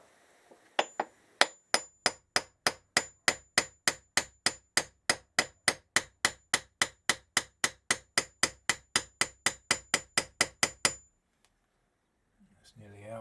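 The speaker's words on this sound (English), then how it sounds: "I'm just using an oversized socket in the centre and just tapping that through." A hammer strikes an oversized socket to drive a part out of a 1977 Kawasaki KZ650 B1 engine during disassembly, giving a long, steady run of about thirty sharp metallic taps, close and evenly spaced, then stopping.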